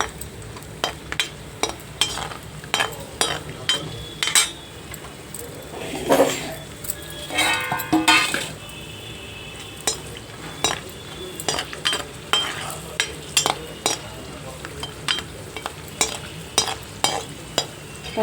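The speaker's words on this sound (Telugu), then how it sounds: "జీడిపప్పు వేయించుకుందాం" Cashew nuts fry in a pan for a restaurant-style paneer cashew curry, a steady sizzle broken by repeated metal spoon scrapes and clinks against the pan, close and clear.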